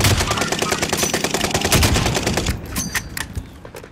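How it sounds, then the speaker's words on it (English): Rapid automatic gunfire rattles in a first-person shooter match, loud and close for about two and a half seconds before tapering into a few scattered shots. "Where are you shooting from?"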